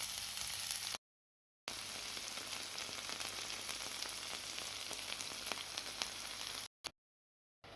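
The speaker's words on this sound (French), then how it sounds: "J'ai mis 2 cuillères à soupe d'huile dans une poêle anti-adhésive et je vais frire de chaque côté." Beef skewers frying in oil in a non-stick pan over low heat give a steady, even crackling sizzle with two short silent breaks.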